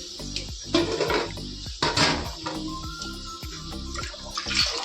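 Mung dal rinsed in water in a pot, with sloshing, swirling water and hollow knocks of grains and vessel, uneven splashes rising and falling close by, no voices.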